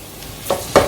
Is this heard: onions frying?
yes